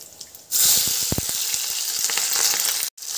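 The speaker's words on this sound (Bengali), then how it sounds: "পেঁয়াজটাকে ভালো করে ভেজে নেব" Onion drops into hot oil with cumin and dried red chilli in a wok for chicken curry, bursting into a loud, close, hissing sizzle that holds steady with a few crackles before a brief cut.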